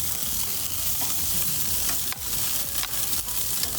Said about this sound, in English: I'm putting it down on the grill flesh side down.